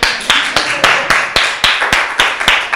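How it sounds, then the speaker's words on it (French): Slow, evenly spaced claps from an audience at a talk, about ten sharp near hand claps in a regular rhythm, with no speech over them. "Mais on peut nous applaudir!"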